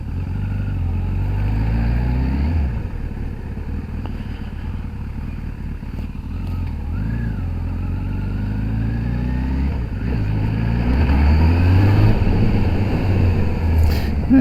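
Kawasaki ZRX1100 motorcycle ridden on a road test, engine rising and falling through repeated gear changes, loud and close, growing stronger toward the end with wind rush.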